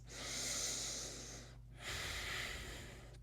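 During a yoga session a person breathes close to the microphone, one long airy inhale followed by a steady exhale, slow and even with a brief pause between.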